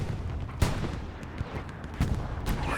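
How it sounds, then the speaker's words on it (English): Artillery shell impacts in the WWII shooter Hell Let Loose, a sharp broadband blast near the start followed by two more thuds, set against a constant rumble of battlefield noise. "Artillery round lands right in the back."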